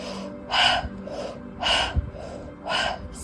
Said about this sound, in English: Remembering to breathe in through the mouth as if you're sucking through a straw, exhaling out.